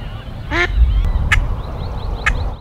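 A few quacks from ducks on a lake in McLennan, Alberta ring out over steady outdoor background noise, short nasal calls spaced apart.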